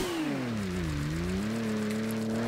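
A Toyota Supra with an upgraded level 3 engine and exhaust revs in the Kaido Racer video game, a loud steady engine drone whose pitch dips and then climbs again, with no talking.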